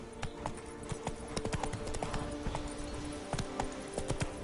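Horse hooves gallop in a steady clip-clop rhythm in The Witcher 3 game, the quick regular hoofbeats close and clear over a low ambient game soundscape.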